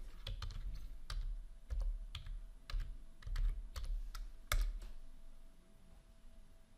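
Keys on a computer keyboard are tapped to enter a password during a Linux Ubuntu 22.04 install on Windows 10 WSL, a dozen or so crisp clicks in an uneven rhythm, close and clear over a quiet room.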